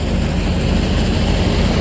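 A new New Holland tractor engine drives a groundnut-cleaning machine, a steady heavy low drone with a constant mechanical hum, loud and close throughout with no pauses.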